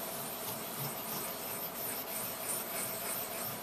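The flat back of a steel chisel blade is rubbed back and forth on a sharpening stone, making a steady, soft, continuous gritty rasp up close with no voices.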